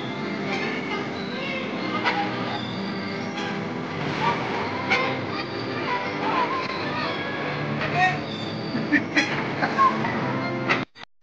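A small toy train carries riders at Ujwala Park in Karimnagar, its continuous rolling rumble and squeaks running steadily with people chattering around, ending in a few sharp knocks.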